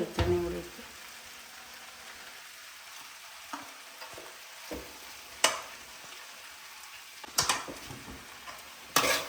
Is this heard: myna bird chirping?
no